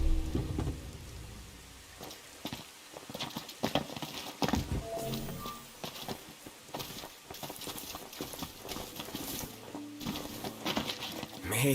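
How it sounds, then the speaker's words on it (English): Rain falls steadily at a campsite in the video game Final Fantasy XV, a dense constant hiss with scattered heavier patters and thuds, fairly close and unbroken, with no talk. "Camping sucks when it rains."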